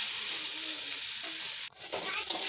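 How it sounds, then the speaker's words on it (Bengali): Curry with turmeric and cumin powder being stirred in a frying pan, with a steady hiss of sizzling oil and a brief scrape of the spoon partway through, close and continuous. "এখানে হলুদ, জিরা গুঁড়ো সমস্ত কিছু একসাথে দিয়ে দিলাম, দিয়ে নাড়ছি"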